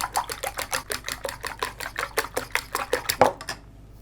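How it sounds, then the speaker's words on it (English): Eggs are mixed into potatoes in a bowl with quick, even clacking strokes, about twenty in a steady rhythm, up close, before stopping abruptly. "I'm going to dump my eggs in my bowl here that I have my taters in,"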